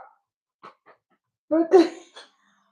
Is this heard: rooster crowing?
no